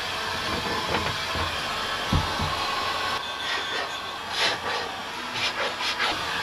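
Hand scrapers work over the wooden cockpit of a boat under restoration, giving steady rasping scrapes with a few sharper strokes against a constant background hiss.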